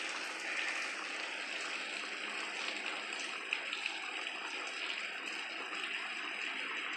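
Rainwater runs down a road on a rainy day in Richmond, Indiana, a steady soft rushing and trickling wash with faint drips, heard at moderate distance with no voices.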